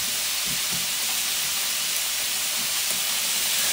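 Chopped onions hitting a hot pan as a curry base, then a loud, steady, close sizzle and hiss that carries on without a break, with no talk.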